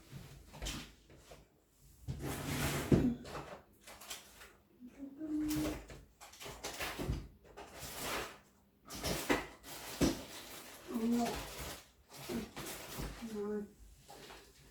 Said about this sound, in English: Let me just have a look in my drawer.